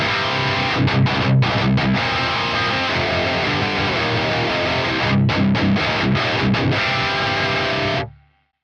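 Heavily distorted electric guitar through a Mesa cabinet impulse response captured with an M160 microphone chugs and sustains in a dense, loud riff with brief rhythmic stops, then cuts off abruptly to silence at the end.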